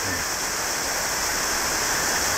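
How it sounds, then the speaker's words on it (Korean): Water flows through an underground tunnel, picked up by a microphone as a constant, dense rushing hiss like a stream, steady and loud from start to finish. "물 흐르는 소리 들리죠."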